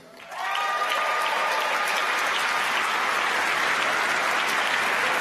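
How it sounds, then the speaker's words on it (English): At a college graduation ceremony, an audience bursts into applause after a brief lull, rising quickly into loud, sustained clapping that continues evenly to the end. "As your name is read, please stand and accept our applause."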